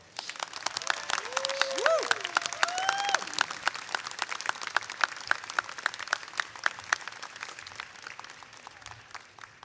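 An audience at a disability-advocacy speech event applauds with fairly quiet, steady clapping that carries on for several seconds, with a brief voice rising above it early on.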